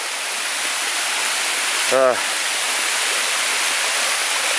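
A small waterfall named Miss Jones Falls on the Appalachian Trail roars as a steady, broad wash of falling water, continuous and fairly close, with one brief voiced sound breaking in for a moment.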